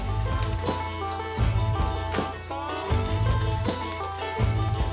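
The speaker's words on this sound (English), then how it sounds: "The oil is hot. Time to add our onions now." Onions frying in hot oil in a kadhai, a steady loud sizzle with crackling bursts, alongside a recurring low rhythmic hum and background music tones.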